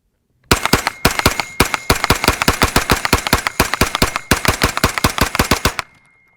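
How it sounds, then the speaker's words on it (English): Rapid bursts from an FG-15 Gatling-style rapid-fire gun, loud and close, a dense run of sharp evenly spaced shots lasting about five seconds with two brief pauses, then stopping abruptly. "Now we have a Gatling gun style of shooting."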